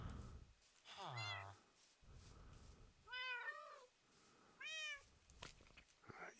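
A cat in the video game Minecraft meows three times in separate plaintive calls, each rising then falling, heard faintly over a quiet background.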